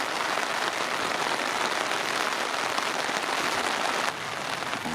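Steady rain pours down at the Lam Pao dam, a dense, even hiss of drops on surfaces. It holds constant for several seconds, then drops slightly in level near the end, with no voices.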